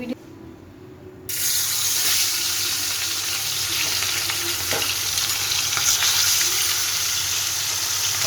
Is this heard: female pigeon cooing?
no